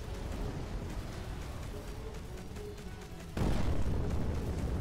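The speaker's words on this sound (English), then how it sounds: "And that for sure hit him with a nuke." A nuke striking an enemy ship in the space game Between the Stars: a rumbling game soundscape that jumps into a sudden, loud, broad blast near the end, which then roars on.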